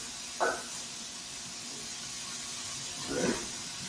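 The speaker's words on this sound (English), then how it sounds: "Got that nice sizzle sound." Food sizzling as it fries in seasoned oil, heard as two short hissing bursts a few seconds apart over a quiet background.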